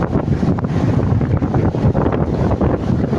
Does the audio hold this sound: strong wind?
yes